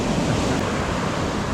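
Mighty Atlantic Ocean surf rolls in on the Skeleton Coast of Africa, a steady, dense roar of breaking waves with some wind rush, continuous and loud throughout.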